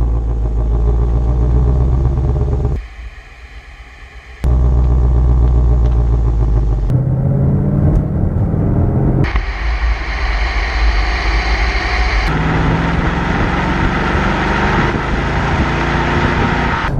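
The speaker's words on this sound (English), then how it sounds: "the engine is running and with the windows done up it's quite quiet in here" A 2016 Ford Mustang GT engine runs steadily while the car is driven, heard from inside the cabin with the windows up. The drone is loud and continuous, with rumbling and some clatter throughout.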